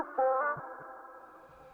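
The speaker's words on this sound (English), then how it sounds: "I'm going to formant shift her voice all the way down and add a little bit of distortion" A deep, gritty processed vocal tone with distorted harmonics, swelling briefly then trailing off into a wavering, echoing tail.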